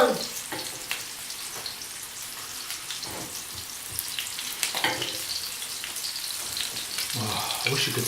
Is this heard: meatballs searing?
yes